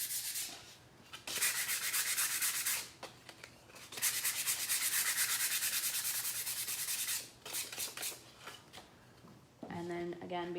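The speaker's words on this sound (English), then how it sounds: "I'm going to use just fine grit paper on these because they're already so light." Fine grit sandpaper rubbing lightly over a painted wooden slotted pumpkin, producing bursts of close, scratchy back-and-forth sanding strokes separated by short pauses.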